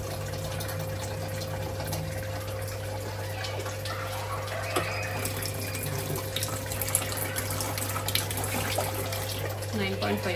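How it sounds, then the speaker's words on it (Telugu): Water streaming steadily from an Enagic LeveLuk SD 501 Kangen water ionizer during deep cleaning, a continuous hiss over a constant low electrical hum, with a person talking throughout. "దీని ఫ్లో అయితే ఇంతేనా? Water flow"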